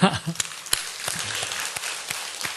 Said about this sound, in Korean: 우리 그 하나님께 감사의 박수를 한번 합시다.